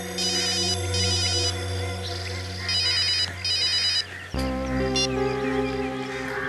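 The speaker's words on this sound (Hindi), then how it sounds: "वो दोनों मेरा फोन कॉल रिसीव क्यों नहीं कर रहे हैं।" An electronic ringtone repeats in short bursts as a phone call goes unanswered, chirping over a dramatic musical score that shifts abruptly partway through, with no voices heard.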